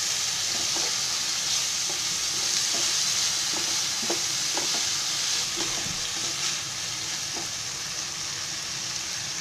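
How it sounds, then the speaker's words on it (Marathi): Sprouted moth beans (matki) hit hot oil seasoned with a pinch of hing in a pan, sizzling steadily and close up while a spoon scrapes and stirs in a loose rhythm. "आता त्याच्यामध्ये हे आधी मटकी टाकते."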